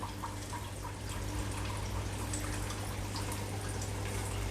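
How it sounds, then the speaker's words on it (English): Water flowing and draining through a shrimp tank rack, a steady close trickle and pour over a low constant hum, with no talking. "the water is actually flowing"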